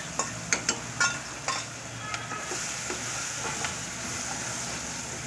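Whole spices and garlic-chili paste frying in hot oil, opening with several sharp clacks of a spoon against the pan, then a steady loud sizzle and hiss, close up.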